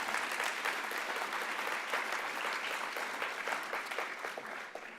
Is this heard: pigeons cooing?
no